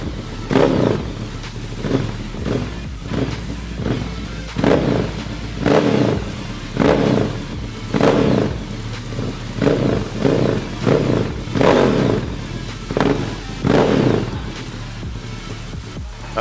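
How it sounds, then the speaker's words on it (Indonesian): A Ducati Monster 1100 motorcycle engine revs repeatedly in sharp, loud bursts, roughly a dozen throttle blips in steady rhythm over a rumbling idle, close by with no talking. "kita dengerin dulu suara mesin dari 1100"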